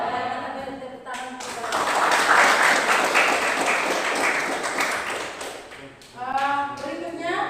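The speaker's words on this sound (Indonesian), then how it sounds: "Kita beri tepuk tangan" Children in a classroom give a round of applause during a maths lesson, building to dense clapping for several seconds, with voices heard before and after.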